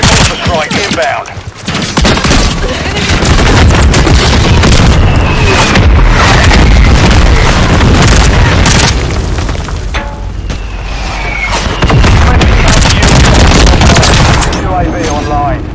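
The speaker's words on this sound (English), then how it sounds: "Friendly mortar strike inbound." Mortar strike explosions in a first-person shooter video game: loud, dense booms and rolling blasts mixed with rapid gunfire, continuing almost without a break, with game voice lines heard briefly.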